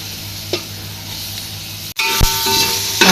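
Tomatoes drop into a hot pan for chicken biryani and a loud, close sizzle swells abruptly after a brief hush, with a few utensil knocks against the pan and no talk.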